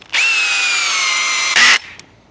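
A Bosch 1330c drill with an 8 amp hour battery drives a 5-inch GRK screw into wood in one loud, steady whir of about a second and a half. A harsh ratcheting burst from the mechanical clutch follows, then a brief click.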